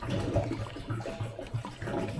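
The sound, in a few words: water pouring into a plastic tote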